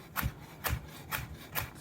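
A knife saws through a carrot in four evenly spaced back-and-forth strokes, each a short, soft rasping scrape, close and quiet with no talking.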